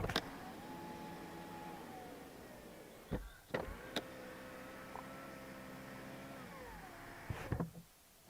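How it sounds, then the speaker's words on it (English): Electric window motors of a 2023 Lexus RX whir faintly and smoothly, running in two long strokes, each ending with a soft thump as the glass seats, in a quiet cabin. "The motors for the electric windows on this car are just so quiet."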